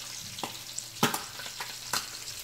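Bacon and eggs frying in a pan, a steady close sizzle broken by several sharp clatters and scrapes of a utensil against the pan, with no talking.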